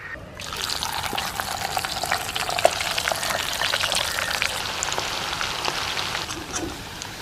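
Fish frying in hot oil for Kerala-style fish pickle, a steady dense sizzle and crackle that runs on evenly and close for the whole stretch, with no one speaking.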